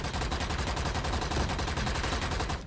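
Rapid, continuous automatic gunfire from the Valorant video game, a dense, loud string of evenly spaced shots that runs for almost three seconds before cutting off.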